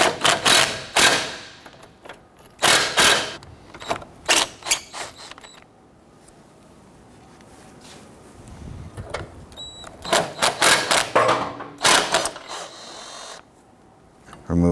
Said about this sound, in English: Loosen up the 10mm nuts.